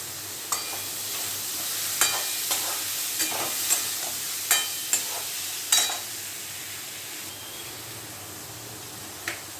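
Soaked, drained arhar dal sizzling in a hot pan while being stirred, with a steady frying hiss and repeated sharp scrapes and taps of the spoon at irregular intervals, no talking.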